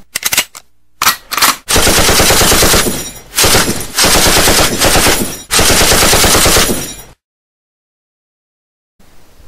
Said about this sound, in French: Mais non, sa mère est là, avec un fusil de chasse,